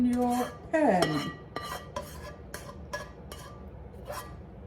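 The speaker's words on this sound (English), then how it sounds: "First, you put the filling in your pan." Cottage pie filling scraped and spooned into a pan, with a few loud metallic clinks and scrapes of utensil on cookware up front, then lighter periodic taps and scrapes continuing at close range.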